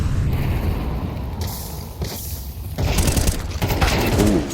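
Rapid gunfire in Counter-Strike 2 during a professional esports match, sharp loud bursts and clattering shots packed into a few seconds, with no one talking over them.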